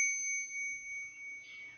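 A small hand bell is struck once at the start, and its clear, pure ring hangs on and slowly fades for nearly two seconds in a quiet room.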